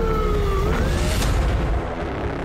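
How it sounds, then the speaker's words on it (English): Emergency vehicle sirens wailing close by during a city-wide storm emergency, a loud gliding siren tone sweeping up and down over heavy rumbling wind-like noise, with no talk. "I hear sirens just going crazy, and I knew they were close by."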